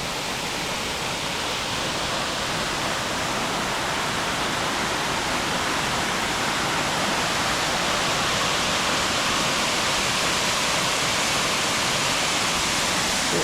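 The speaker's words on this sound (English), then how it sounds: "There's a shot of the waterfall from here." Steady, full-bodied roar of Spruce Flats Falls, a waterfall, close by and loud, a continuous broadband wash of falling water with no talk over it.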